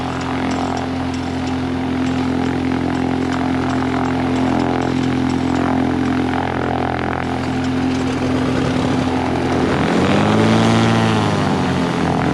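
A propeller airplane engine fires up at an airfield display day in Petaluma, California, a loud steady droning hum with buzzing harmonics that surges and shifts pitch near the end as the engine revs.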